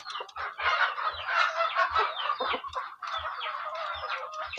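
KUB native chickens, about six months old, cluck and chatter continuously at moderate distance in a flock, with a few short crows mixed in and no talk.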